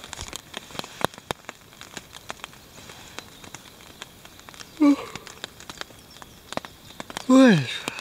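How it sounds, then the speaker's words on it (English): Steady patter of rain with scattered sharp drips close by, and a couple of brief vocal sounds partway through. "It's been raining non-stop."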